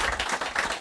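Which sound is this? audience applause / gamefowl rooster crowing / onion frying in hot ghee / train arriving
audience applause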